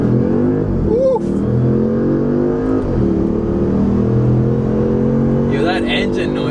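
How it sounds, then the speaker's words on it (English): A Nissan 370Z, part of a build aiming for 400 horsepower, revs its engine up and down close by, the pitch climbing and dropping in a few swells, while people talk over it. "Yo, that engine noise, bro."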